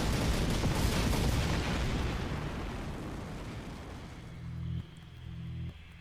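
Heavy booming cannon blasts from an Attack on Titan anime episode roll into a long rumbling decay that fades over several seconds, leaving a low hum.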